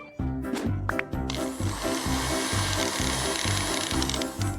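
A blender whirs steadily while blending a smoothie in a kitchen challenge, its motor pulsing in a rough, repetitive churn that runs loud and close after a few quick clicks at the start.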